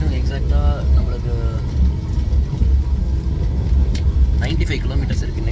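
An express train runs at about 109 km/h toward Villupuram, its heavy, constant rumble filling the space while a voice talks over it.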